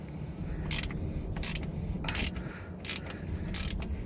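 A ratchet tightens the oil drain bolt on a 2008 Porsche Boxster during an oil change. About five short, close clicking strokes come at a fairly even rhythm, with no talk.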